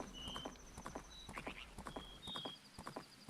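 Epona the horse gallops in Majora's Mask, a steady run of rhythmic hoof clip-clops under faint chimes and game ambience, close and continuous.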